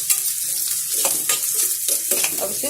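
Chopped onion and green chilies fry in a pan, sizzling loudly and continuously while being stirred, with rhythmic scraping strokes breaking through the hiss.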